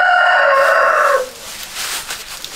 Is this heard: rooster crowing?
yes